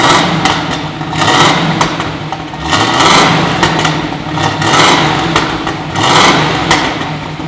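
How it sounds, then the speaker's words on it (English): A 1969 Chevrolet Camaro Z/28 engine fires up and runs, a loud, steady rumble that swells and eases in a few revving surges close by, with no talking. "So I'll go ahead and fire it up right now."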